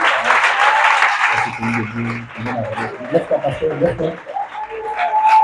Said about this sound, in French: Alors, on acclame le Seigneur pour le pasteur Yannick qui est arrivé.